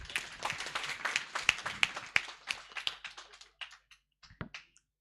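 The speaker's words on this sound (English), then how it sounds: "If I were you, I would clap for these colleagues." An audience at a national inter-university constitutional law moot court competition claps for the competitors. Brisk, close claps come thick at first, then thin out to a few scattered claps and stop.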